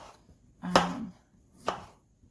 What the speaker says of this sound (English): So now I peeled the zucchini, and I'm just dicing it